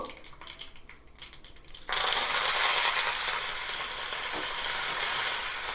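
Mustard seeds, cumin, chillies and curry leaves hitting hot tempering oil for idli chutney, a sudden loud sizzle that bursts in after a quieter stretch and keeps crackling steadily to the end.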